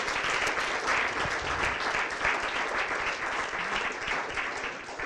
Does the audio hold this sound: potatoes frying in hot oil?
no